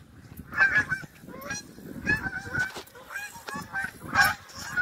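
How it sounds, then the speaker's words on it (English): Geese honking repeatedly at moderate distance over Gunner Lake, a busy overlapping chorus of calls that rises and falls over several seconds. "Oh, here come the geese again."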